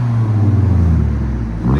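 A 2010 Scion tC with a 2.4L engine, Vibrant Ultra Quiet resonator and muffler delete, revs loudly and close up, its deep exhaust drone holding steady and then dipping slightly before swelling again.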